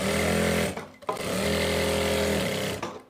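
Sewing machine stitching a narrow salwar, a steady loud mechanical whirr that stops briefly twice before running on, with no voices.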